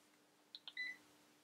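A Flir IM75 insulation multimeter sounds its low-battery alarm: two short electronic beeps followed by a longer tone, fairly faint and alone in a quiet room.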